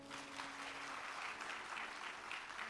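A large audience at a Hindu religious discourse on Vrindavan bursts into sustained, dense clapping that stays strong and even throughout.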